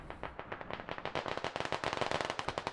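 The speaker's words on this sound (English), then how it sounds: "Shots happening, but Scottis just drove through them all." Rapid automatic gunfire in the Squad military shooter game: dense bursts of cracking shots in a fast, steady rhythm, loud and close throughout, with no talk.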